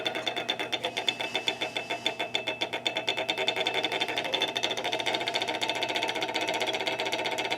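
A stirrer left running to mix powder into vinegar gives a steady mechanical whirring with a fast, regular pulsing rhythm, close and continuous throughout, with no voices.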